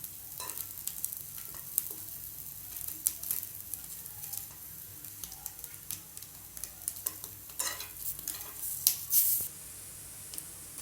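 Paneer cubes sizzling and frying in a pan while being stirred and turned, a steady low crackle with scattered scraping and clacking knocks from the utensil, no talking.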